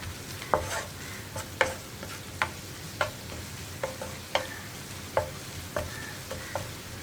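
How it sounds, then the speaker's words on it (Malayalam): Dried shrimp roast with spice powders is stirred in a pan, a faint sizzle under regular clicking spoon scrapes against the pan, about one stroke every half second, close and quiet. "ഇത്രയും ചേർത്തിട്ട് ഇനി പൊടികളുടെ ആ റോ സ്മെല്ലും റോ ടേസ്റ്റും ഒന്ന് മാറി വരുന്നത് വരെ ഒന്ന് ഇളക്കി കൊടുക്കുക"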